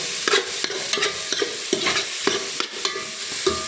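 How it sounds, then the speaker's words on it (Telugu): Macaroni is stirred in a sizzling pan in a kitchen in Kuwait: a spoon scrapes and knocks against the pan in uneven strokes over a steady frying hiss. "ఇప్పుడు కలుపుతాను చూడండి"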